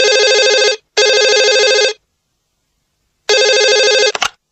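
A telephone rings in two long electronic bursts, goes silent, then starts a third ring that is cut off as the call is picked up; loud, close and clean, with no talk.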